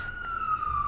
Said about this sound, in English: that's the sirens, the New York sirens